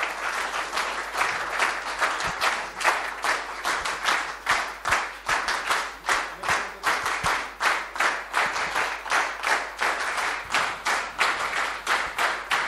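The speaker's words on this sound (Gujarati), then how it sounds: "એક વીર તાળી બધા મળીને આ એક પાટીદાર યુવક મંડળ મુંબઈને આપીએ" An audience at a Patidar Yuvak Mandal Mumbai event, Prerana-2018, claps together in a strong, regular rhythm. Loud, evenly spaced beats repeat for over twelve seconds with no talking over them.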